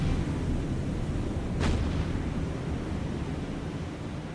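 A ship blowing up in the naval combat game War on the Sea, Battle of the Atlantic, a sharp blast rising out of a constant roaring noise bed, heard once mid-clip with no talking.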